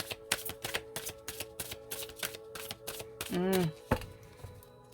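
A deck of tarot cards is shuffled up close in quick, crisp riffling bursts, with a brief voice sound partway through.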